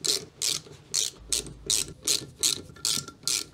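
A ratchet clicks in a steady rhythm, about eight strokes in a row, while removing studs from a Classic Mini cylinder head, close and crisp with no talking.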